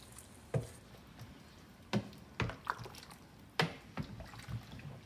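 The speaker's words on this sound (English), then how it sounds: "And I will just give that a good stir to mix the ingredients together." Jollof rice and its ingredients being stirred in a pot, giving a few soft wet squelches and scraping clicks spaced irregularly, quiet and close with no talking.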